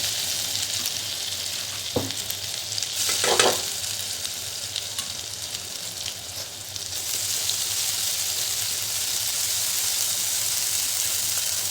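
Cumin seeds fry in hot oil for a no-onion, no-garlic dish, giving a steady close sizzle and hiss with a couple of brief stirring clatters early on.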